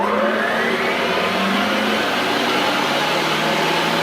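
A mixer whirs steadily through chocolate fudge cake batter with milk added, a constant loud motor drone with no pauses and no talk.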